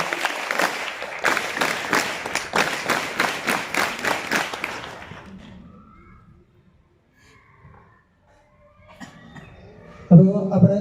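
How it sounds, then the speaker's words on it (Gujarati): An audience at a school event claps in welcome of a book donor, a steady burst of applause lasting several seconds before fading out, followed by quiet and then a nearby voice speaking. "આપણે એને તાળીઓથી વધાવીએ"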